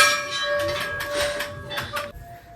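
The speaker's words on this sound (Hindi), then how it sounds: "बाकी यहाँ घंटियाँ देखिए" Bells at Dunagiri temple in Almora ring in a series of bright metallic strikes with lingering tones, fairly close and loud, before cutting off sharply.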